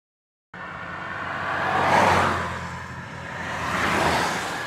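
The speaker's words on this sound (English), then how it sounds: "amidst the sound of cars rolling by and the chatter of those who call the sidewalk home" Cars roll past on a downtown San Diego street, two broad swells of tire and engine noise rising and fading as vehicles pass nearby.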